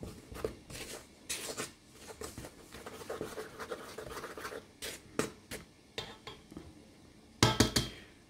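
A spoon or whisk stirs sugar and a small pinch of salt together in a bowl for brioche dough, giving scattered scraping and clinking taps against the bowl, close and fairly quiet, with no talking.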